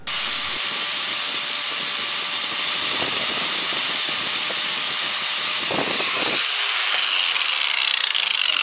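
An angle grinder works on the final drive ball bearing of a 2002 BMW K1200RS, giving a steady, loud, high-pitched grinding whine with brief scraping catches, which then tails off into a fading spin-down near the end.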